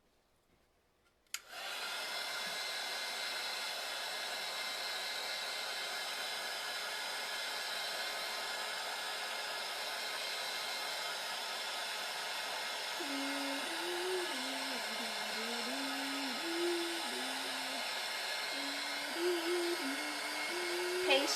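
A heat tool blows steadily to dry ink after a brief click. It makes a loud, constant whir and is soon joined by a humming voice.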